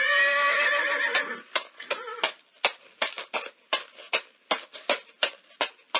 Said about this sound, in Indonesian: Itu adalah suara kuda berjalan.